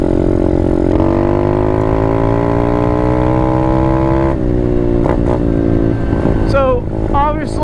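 A brand-new Apollo 125 RFZ Chinese dirt bike engine revs hard while being ridden, a loud close buzzing drone that climbs steadily in pitch, drops briefly, then comes back in bursts with quick pitch swings.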